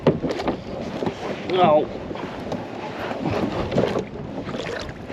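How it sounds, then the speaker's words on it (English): Strong wind gusts rush over the microphone on open water during kayak bass fishing, a steady broadband roar with water sloshing against the kayak and a brief spoken exclamation. "Freaking wind. The wind is not being nice."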